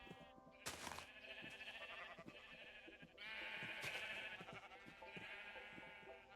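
Sheep bleating in the Highworlds Curse video game, several overlapping bleats in a row with a sharp thud near the start, steady background hum and clicks, fairly faint overall.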